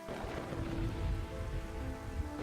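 Rain falling in the video game Kingdoms and Castles, a steady, dense patter of drops that stays even throughout, with no talk.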